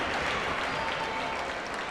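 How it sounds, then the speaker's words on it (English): At a high school boys' basketball game in a gym, the crowd gives a standing ovation after an injury, a broad, even wash of clapping and cheering that carries steadily throughout. "Ovation given by the crowd."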